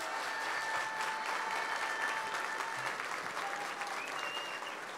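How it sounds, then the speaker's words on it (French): Audience applause fills the hall at the opening ceremony of the 2019 World Aerobatic Championship in Châteauroux, a steady, dense wash of clapping from a large crowd that holds at even loudness throughout with no break. "Bravo Châteauroux, applaudissez-vous très fort."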